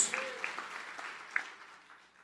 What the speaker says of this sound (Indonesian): Tepuk tangan yang paling meriah buat Yesus.